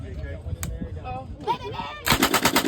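A .308 machine gun fires from a tripod in a loud, rapid burst of about six shots near the end, after talk and scattered sounds at the range.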